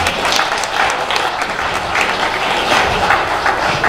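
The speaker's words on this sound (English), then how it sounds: "let's give a welcome applause to these three panelists" An audience applauds to welcome three panelists at a political forum, a dense, steady clatter of clapping that holds for the whole stretch.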